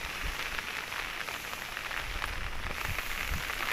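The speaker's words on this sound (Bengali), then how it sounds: "প্রচুর বৃষ্টি" Heavy rain falls on a village pond in Bangladesh amid strong wind, a soft but unbroken hiss of drops that stays fairly distant and even throughout.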